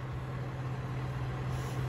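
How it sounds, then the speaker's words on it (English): A garbage truck arriving outside, its engine a steady low drone with a constant hum, moderately distant and unbroken, with no voices. "The garbage truck is here."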